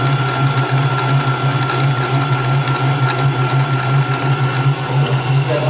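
Stand mixer running steadily during a Black Forest cake pastry session, a constant low motor hum with whirring overtones held at an even, fairly loud level throughout, no voices.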